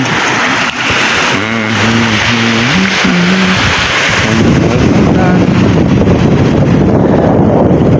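Strong, cold wind roars and buffets steadily throughout on a fishing outing, with a voice speaking briefly partway through.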